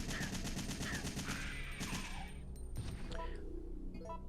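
Rapid automatic gunfire in Resident Evil 3, a dense, continuous rattle of shots that fills the first two seconds, then fades into scattered clinks and game sounds with a faint voice.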